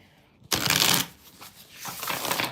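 Tarot cards being shuffled during a live reading, a loud riffling burst followed by softer continuing shuffles, close and with no speech.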